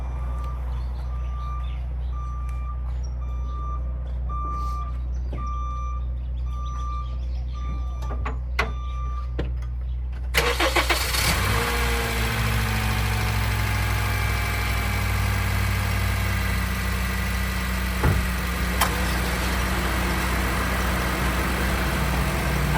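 A Honda Fit engine with new spark plugs and coil packs cranks at about ten seconds, catches and settles into a steady idle that continues to the end. Before the start only a quiet background hum and a faint repeating beep are heard.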